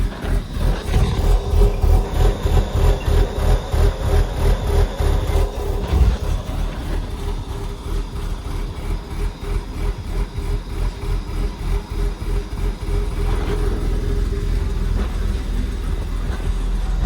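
A Porsche 986 idling after a cold start, its engine running close and loud with a strongly pulsing, rhythmic low throb that eases slightly midway, then steadies.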